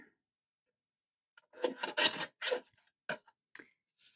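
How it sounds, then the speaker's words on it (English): Paper for a handmade card is trimmed in a few short, close rasping strokes after a quiet start, each cut a brief dry scrape. "So maybe I will trim this down first to 3 1/4."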